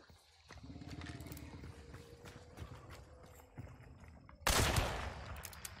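Gunfire from the video game Hunt: Showdown rings out in scattered shots, then one sudden loud blast near the end, over quieter in-game movement and thuds.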